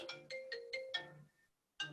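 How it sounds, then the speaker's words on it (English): A mobile phone ringtone plays a bright repeating melodic pattern of five quick notes, pauses, then starts again, clear and alone. "And so my phone goes, so that's handy."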